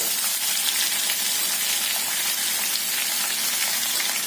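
Chopped onions hit hot oil in a hing and curry-leaf tempering, giving a loud, steady, close sizzle like hard rain that holds unbroken throughout.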